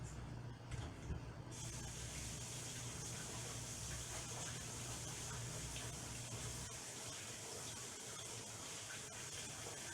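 Hands rinsed under a running tap while making gluten-free sourdough rolls, a steady hissing gush of water that shifts slightly partway through, faint and continuous with no talk.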